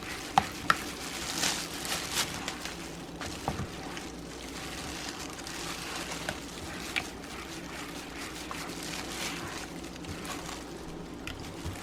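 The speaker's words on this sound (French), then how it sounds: "On mélange bien." A spoon stirs a homemade coconut yogurt mixture, producing soft continuous scraping and swishing with occasional light clicks against the bowl, steady and fairly quiet.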